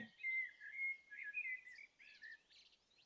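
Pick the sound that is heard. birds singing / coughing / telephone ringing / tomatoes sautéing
birds singing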